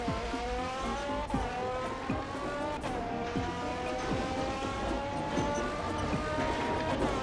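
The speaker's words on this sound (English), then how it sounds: "Spinning the tires." In a Roblox racing game, a car spins its tires with a steady engine drone and screeching squeal, rising in pitch a few times, loud and continuous throughout.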